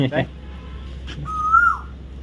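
A koel sings in a Botad village in Gujarat, giving one clear rising whistled call that swells and then fades. Before it, a brief noisy burst sits over a steady low hum.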